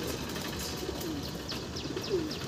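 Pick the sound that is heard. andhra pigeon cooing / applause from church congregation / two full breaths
andhra pigeon cooing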